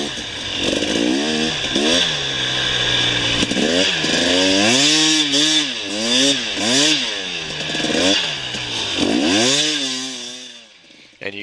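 A KTM XCW 250 two-stroke dirt bike revs hard through a desert sand wash near Phoenix, its engine note rising and falling in repeated throttle surges, loud and close, with the revs dropping off at the end.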